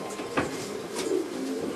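A breeding loft full of pigeons gives off steady overlapping cooing, with a couple of louder nearby calls standing out from the low, constant flock murmur.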